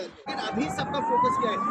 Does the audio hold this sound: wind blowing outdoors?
no